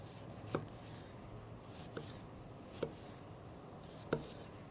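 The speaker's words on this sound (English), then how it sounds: "I'm going to just cut up a couple lemon wedges here." A knife cutting lemon wedges: four sharp, quiet chops spaced about a second apart, with nothing else in the background.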